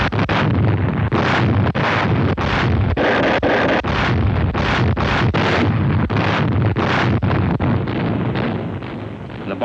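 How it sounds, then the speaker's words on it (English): Big naval guns bombard Pacific beaches ahead of a landing, a rapid series of heavy booming blasts, one after another in a steady roll over a constant roar, loud throughout, fading slightly at the end, on old archival film. "The more those big guns pounded the beaches, the fewer Japs there would be to meet us when we went ashore"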